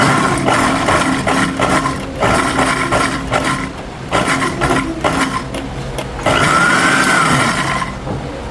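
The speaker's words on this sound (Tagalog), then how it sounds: "Next natin ay i-blend muna natin itong ating mango." A blender whirs steadily as it purées a single mango for homemade ice candy, the motor's loud grinding hum broken by brief pulses and pauses.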